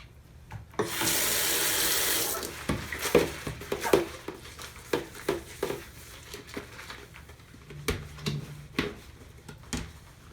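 A breast pump kit basin washed with soap under warm running water from a tap: a steady close gush of water into a sink, then splashy rinsing and clattery handling in irregular bursts.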